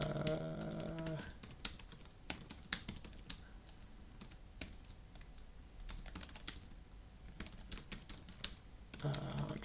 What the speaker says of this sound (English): I'm just typing to Flora